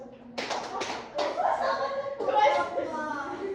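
Children clap a quick rhythmic pattern of sharp hand claps, with young voices chanting along over the beats.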